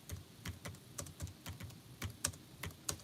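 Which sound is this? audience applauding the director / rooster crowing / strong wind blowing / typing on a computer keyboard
typing on a computer keyboard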